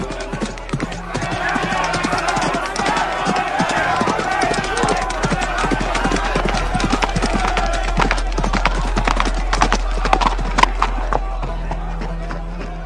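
Horse hooves clip-clop in a fast, dense, continuous clatter of a mounted charge dispersing a crowd, loud and steady throughout as an audiobook sound effect, with no speech over it.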